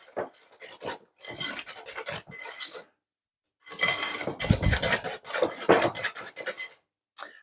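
An egg is worked into pound cake batter in a bowl, with scraping, clinking utensil strokes against the dish in several bursts separated by short pauses, close and fairly loud, with no talking.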